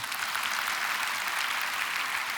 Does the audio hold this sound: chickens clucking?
no